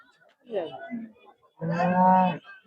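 A cow at the Karad cattle market, where pregnant cows are sold, gives a shorter low call and then a long, loud, close moo.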